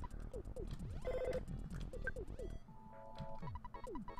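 Telephone ringing in the video game Earthbound, a chiming ring cutting through busy game music and sound effects, moderately loud.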